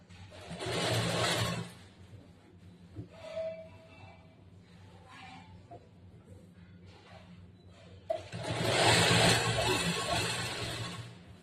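A sewing machine stitches the side slit of a chudidar, its loud whirring run lasting about two seconds, pausing through quieter handling noises, then starting again for a longer stretch.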